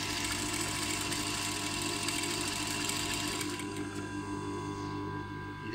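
A sewing machine stitching piping onto a plain blouse runs in a fast, steady mechanical whir close by, then slows and quiets toward the end, with no talking.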